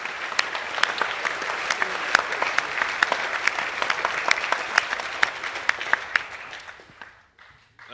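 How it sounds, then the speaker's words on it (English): A school assembly audience at an academic awards event applauds enthusiastically for several seconds, dense clapping with crisp individual claps, before it tapers off into quiet. "Can we give the boys another round of applause"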